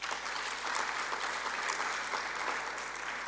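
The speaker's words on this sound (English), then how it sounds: "I think we should clap hands for that." Steady, dense applause from a national conference audience, many hands clapping continuously at an even level throughout.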